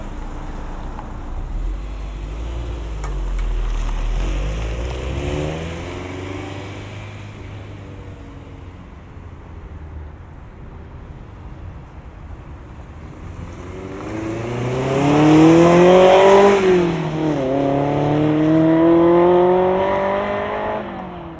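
A 2001 Honda S2000 sports car engine idles low, then revs up twice with a throaty, rising and falling exhaust roar, fairly loud and close.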